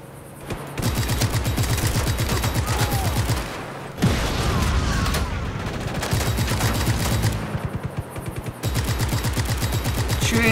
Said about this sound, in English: Shooting at the tires is effective.